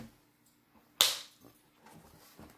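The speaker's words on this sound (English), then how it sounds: "the closure that snaps closed." The closure on a box of Derwent metallic pencils snaps shut with one sharp, crisp click, followed by faint handling rustles.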